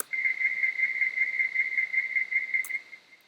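A sustained, bright tonal note from a bell sample layered with synthesized sounds rings steadily for a few seconds with a faint shimmering edge, then fades; a short high click sounds near the end.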